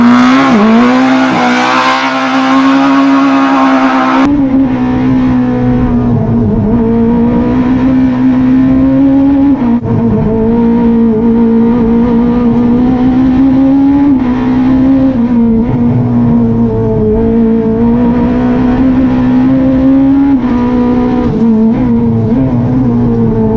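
Renault Maxi Megane front-wheel-drive kit rally car with straight-cut gears, a loud sustained engine note that holds and rises through long pulls, with the whine of the gearbox running throughout and no talk.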